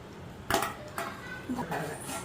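A ladle clinks sharply against the bowl a few times while idli batter is stirred for bajji, the knocks coming at uneven intervals over a quiet kitchen background, with some talking.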